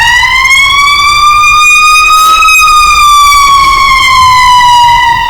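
A loud, close ambulance siren wails steadily in a slow rising and falling tone, filling the whole stretch alone without talk.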